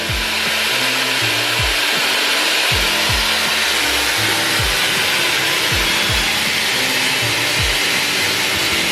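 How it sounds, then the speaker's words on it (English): A Shark FlexStyle hair styler on its cooling setting blows a steady, loud, unbroken rush of air that continues throughout, with a voice faintly underneath. "there is a cooling button right here that you should hold for a few seconds. And then cold air is gonna blow out."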